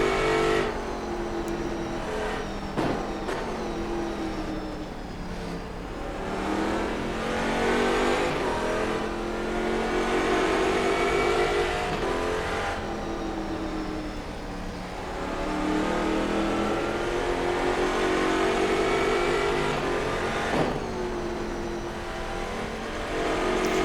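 A race car engine in the rFactor 2 racing game at Bathurst howls loudly and continuously, rising and falling through gear changes and revs with sharp upshift blips, close up and alone.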